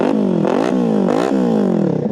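A Kawasaki Ninja motorcycle, a first bike, revs hard in several rising and falling bursts, the engine loud and close throughout with no talk.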